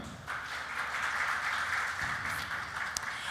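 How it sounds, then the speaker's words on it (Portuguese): Faint, distant audience applause for a speaker, a soft continuous patter of clapping spread across the room. "Uma salva de palmas para Juanito!"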